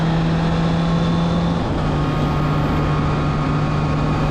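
A 2023 Honda CB650R motorcycle engine runs steadily while riding, a loud, constant hum with a drone whose pitch drops slightly partway through, alone without talk.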